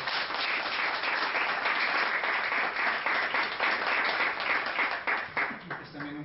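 An audience at a literary talk claps in a warm burst of applause, dense at first and then thinning toward the end as individual claps stand out, with some faint voices mixed in.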